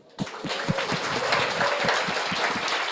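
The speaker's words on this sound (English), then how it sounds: "Everyone, let's give a loud hand of applause for them." Applause breaks out abruptly at a coding bootcamp demo day, a crowd clapping steadily and fairly close, with a few louder individual claps standing out.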